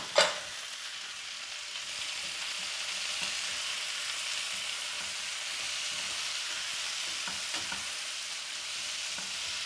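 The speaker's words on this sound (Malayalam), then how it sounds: "നമ്മുടെ തക്കാളി ഇതിലേക്ക് ചേർത്ത് കൊടുക്കാം." Tomatoes hit a hot pan for a quick curry with a sharp burst, then settle into an even, continuous sizzle with faint stirring and no voices.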